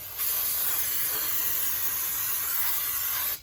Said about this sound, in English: And so you got a good spray on that